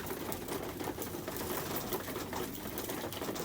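Racing pigeons in a loft peck at their feed, producing a faint, continuous patter of rapid tiny clicks and taps with no voices.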